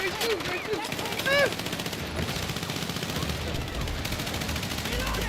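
Video game gunfire: bursts of rapid shots and automatic fire crackle over a busy battle soundscape, moderately loud, with voices shouting and speaking through it.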